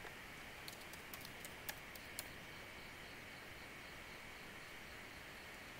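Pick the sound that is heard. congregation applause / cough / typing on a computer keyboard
typing on a computer keyboard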